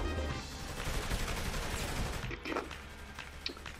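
Rapid gunfire from an inaccurate gun in the video game Saints Row, a dense continuous burst of shots over a constant game background, with no speech.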